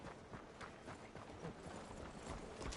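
Rapid hoofbeats clop steadily over a dense, noisy background as a horse trots along at a quick, even pace in the video game Red Dead Redemption 2.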